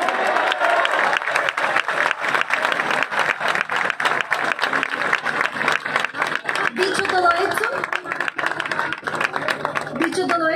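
Clapping at an outdoor Pride event in Torremolinos, loud and sustained with many hands striking in rough unison, mixed with crowd noise and voices that grow more prominent toward the end.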